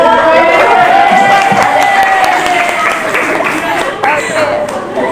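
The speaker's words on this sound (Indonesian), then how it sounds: "Tepuk tangan untuk kelompok 3 sekali lagi." A classroom of students applauds group 3, steady clapping mixed with cheers and chatter that holds for several seconds and tapers slightly near the end.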